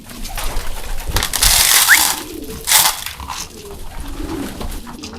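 Racing pigeons coo around a loft. Soft low coos come and go against a noisy background with a few brief rustles and a short chirp.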